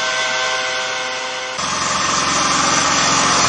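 A wood gas powered engine runs steadily on a Phoenix Gasser with a new nozzle design, a loud, dense mechanical drone that shifts abruptly partway through to a rougher, broader roar and keeps going without pause.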